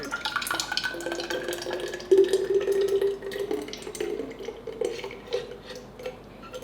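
Tangy, acidic Yen Ta Fo sauce made with vinegar and pickled garlic liquid pours into a bottle, a close, gurgling stream that swells midway, with light clinks of glass and utensils around it.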